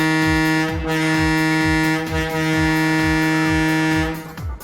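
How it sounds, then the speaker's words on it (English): A diesel locomotive air horn blasts one long, steady, loud multi-tone chord that cuts off sharply after about four seconds, with a rhythmic low throbbing beneath it. "When diesel engines replaced the steamers, the whistles were replaced with air horns that sounded like this."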